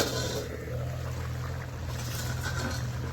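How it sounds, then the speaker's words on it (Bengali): Curry gravy bubbling at a steady simmer in a pot with the lid lifted, a continuous low rumbling seethe with faint bubbling, close and even throughout. "ঝোল ফুটছে।"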